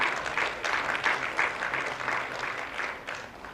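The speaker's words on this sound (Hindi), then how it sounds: "तालियां होती रहे जोरदार।" Audience applause at a Jharkhand government school event in Medinipur, where tablets are handed out to primary schools; steady clapping from a crowd carries on at moderate volume throughout, with no voices over it.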